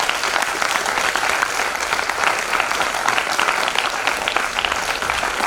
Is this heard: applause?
yes